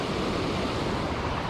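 Water rushing over rocks at a lake spillway in the rain, a dense, steady, broadband roar heard close and alone without any voices.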